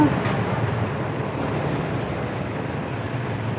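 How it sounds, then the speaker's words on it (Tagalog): Steady rain sets in with a continuous, even hiss of drops that holds loud and close throughout, broadband and unbroken with no clear voices. "Ayan na ang ulan"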